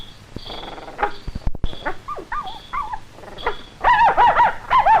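A dog whimpers and yips several times, high-pitched and close, with some shuffling and thumps before the cries grow louder near the end.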